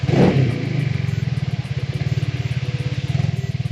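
A Vespa GTS scooter engine running, a rapid rhythmic chugging putter after a brief louder burst at the start, steady and close with a pulsing idle-like beat.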